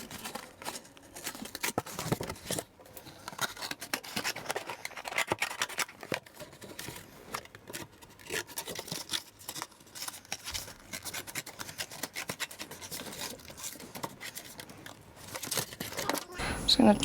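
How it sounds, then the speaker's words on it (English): Scissors snip and cut through a piece of printed cardboard packaging box for a mixed media collage, giving steady close crinkling, scratching cuts and paper handling with a brief rustle near the end. "so I'll cut a bit of that out."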